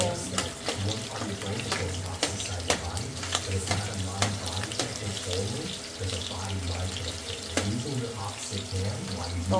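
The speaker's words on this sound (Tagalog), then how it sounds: "i-fry muna natin ang tokwa for the adobong kangkong" Tofu fries in a pan of hot oil for adobong kangkong, a steady close sizzle with crackling pops and occasional stirring clatter, while voices talk faintly over it.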